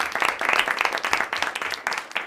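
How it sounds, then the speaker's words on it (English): Applause from a modest crowd at a round-table student discussion, sharp uneven claps close by forming a lively patter that rises and dips over a couple of seconds. "Give them a round of applause"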